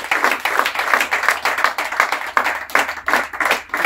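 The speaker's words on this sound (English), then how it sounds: "I think you all deserve a big round of applause." A cricket team claps and applauds together in a dressing room after a match, a dense, steady round of many hands clapping close by, continuous for the whole stretch with no voices over it.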